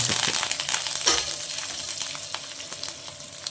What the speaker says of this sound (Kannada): ನೋಡಿ ಸಾಸಿವೆ ಹಾಕ್ತಾಯಿದ್ದೀನಿ